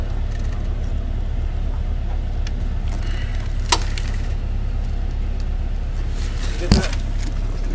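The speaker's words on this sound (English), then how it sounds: "that right there is how you activate the clutch plate" A car's AC compressor clutch plate pulls in with a sharp metallic click over a steady engine idle, followed a few seconds later by a second, louder engagement click.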